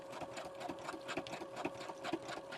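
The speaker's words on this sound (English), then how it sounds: "I've got it set back to our zigzag. And I start going and then just back stitch a little bit. And go right along the edge of that pocket." Close, steady whirring of a sewing machine zigzag stitching along a pocket edge on a grocery-bag junk journal, with a regular rhythmic needle chatter that runs without pause and no voices.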